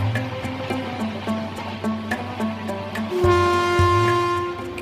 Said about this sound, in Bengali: ট্রেনটিও যেন ঝড়ের গতিতে এগিয়ে চলেছে